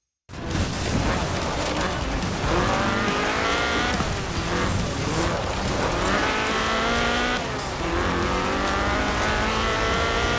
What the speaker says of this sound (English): This was a car designed explicitly for rallying, with a powerful fuel-injected 1790cc Cosworth BDE engine.